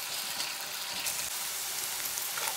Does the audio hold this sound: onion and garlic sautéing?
yes